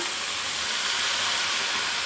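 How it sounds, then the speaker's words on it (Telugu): Steady, loud hiss of steam and sizzling fills the whole stretch as a little water is sprinkled into a hot pan of stuffed brinjal curry cooked in groundnut oil, with no talking. "కొద్దిగా మాత్రమే ఇట్లా నీళ్ళు జీలకరిద్దాము"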